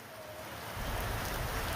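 Steady summer rain pours across farmland during the harvest in Tamil Nadu, a dense even hiss of drops on surfaces that grows slightly heavier partway through, with no voices.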